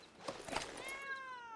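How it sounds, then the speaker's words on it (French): A domestic cat meows with a drawn-out, wavering cry that rises and falls, fairly close, preceded by brief scuffling noises and with no talk over it. "Nous sommes cernés par les chats."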